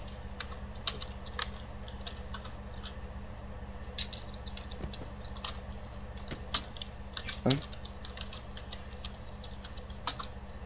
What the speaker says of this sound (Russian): Вот, допустим, мы пишем call такси.